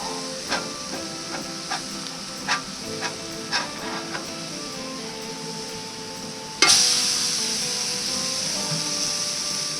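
Smashburger patties sear on a Blackstone griddle. A few light clicks and taps are followed by a sudden, steady sizzling hiss that continues to the end.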